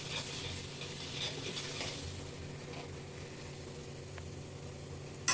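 Spice paste stir-fried for crab curry: a soft, continuous frying hiss, fairly faint and even throughout, with a brief knock at the very end.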